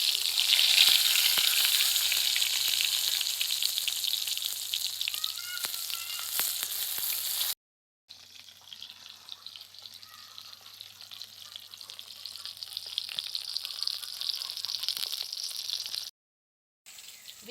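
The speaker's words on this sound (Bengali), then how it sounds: "তেল গরম হয়ে গেছে, এবার বেগুনগুলোকে ভেজে নেব।" Eggplant pieces fry in plenty of hot oil, a bright crackling sizzle that is loud at first, then cut briefly and returning slightly softer, with no talk.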